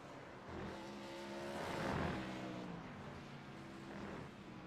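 Race car engines in the iRacing video game at Watkins Glen International drone at steady pitch, with a rougher rumbling buzz swelling in the middle as tires run over rumble strips.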